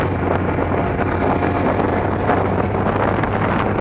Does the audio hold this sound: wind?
yes